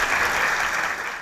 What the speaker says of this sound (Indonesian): Tepuk tangan untuk Desa Kandangan.